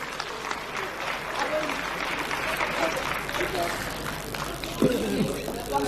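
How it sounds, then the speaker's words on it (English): Sustained applause from a crowd at a political party's announcement of mayoral candidates, steady and fairly loud throughout, with voices and cheers mixed in and a brief louder shout near the end. "Give them a good round of applause"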